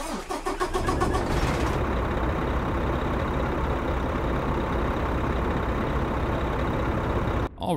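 A Kenworth T680 with a PACCAR MX-13 engine in American Truck Simulator cranks and fires up, then settles into a loud, steady diesel idle rumble that cuts off abruptly at the end.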